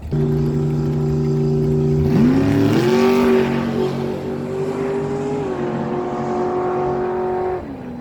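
A 2005 BW dragster at Miramichi Dragway roars loudly and continuously, its engine note climbing sharply partway through the run and holding a high, steady pitch before dropping off near the end.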